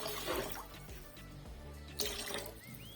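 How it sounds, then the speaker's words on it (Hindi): Water poured from a glass into a pot of rice for sweet jaggery rice, a steady splashing pour followed by a second louder pour, fairly close, with no talking. "6 गिलास चावल थे, हम 6 गिलास पानी डाल दिए"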